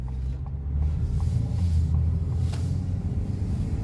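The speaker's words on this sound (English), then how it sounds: "I want y'all to hear this turbo because I love it." A Ford Maverick with a turbocharged engine cruises along, giving a steady low rumble with a faint whooshing edge. The drone stays even and fairly loud from inside the cabin, and no one speaks.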